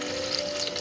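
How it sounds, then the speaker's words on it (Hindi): Fish roe fries in a pan of hot oil for an Indian curry, giving a dense, loud, close sizzle with crackling spatters and no voices. "उड़ रहा है बहुत ज़्यादा तेल से"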